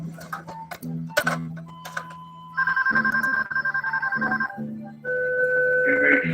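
A telephone rings in a room in bursts of electronic ringing tones, loud and close, with background music and muffled voices underneath.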